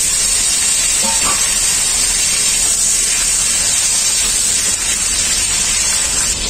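Potatoes cut into long strips sizzle loudly in a pan of oil with lightly fried onions, a steady close hiss and crackle that runs unbroken throughout.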